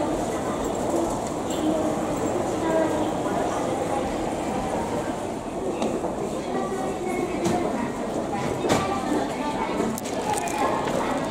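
A train in Japan rumbles steadily past at moderate distance, with a continuous low roar and faint clanks, some birds and distant voices in the background.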